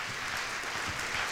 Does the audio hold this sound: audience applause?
yes